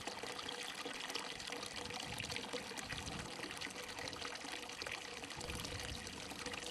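Water pours steadily from a seven-gallon jug, overflowing into the lids of Dutch ovens set on a Firebox stove, giving a continuous, even splashing trickle with no breaks.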